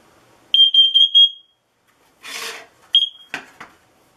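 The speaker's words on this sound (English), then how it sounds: "it looks like it has to run through all of the alarms just to check and verify that it does work" A smoke and carbon monoxide detector running its alarm test gives a burst of four shrill beeps, then a rough scraping rub, another short beep and a final scrape, all close and loud in a quiet room.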